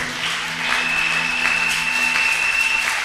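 Church congregation applauding and cheering in praise during an evening service, a steady, dense wash of clapping filling the room for the whole stretch, with a faint sustained tone running underneath.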